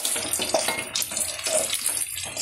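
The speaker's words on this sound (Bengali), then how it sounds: "এবার এর ভিতরে গোলাপ জল, কেওড়া জল" Rose water and kewra water poured into a pan of chicken chaap masala, a steady close splashing stream of liquid running throughout with faint clinks.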